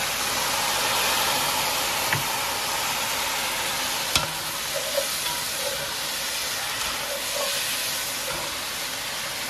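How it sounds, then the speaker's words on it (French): Peppers, onions and tomatoes grilling in a pan for ratatouille give a continuous dense sizzle and crackle, loud and close, with a few faint clicks and no talking. "Ça commence un peu à griller, vous voyez."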